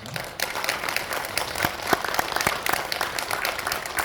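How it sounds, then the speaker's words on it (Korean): Audience applause in a church congregation welcoming a guest pastor visiting from the United States, a steady, dense wash of clapping that holds at an even level for several seconds with no talk over it. "박수 부탁드립니다"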